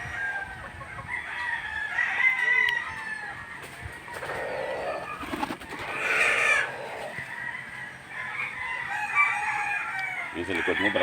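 A rooster crows several times on a farm where roosters are raised, sharp rising calls repeating over steady outdoor background, with people talking nearby.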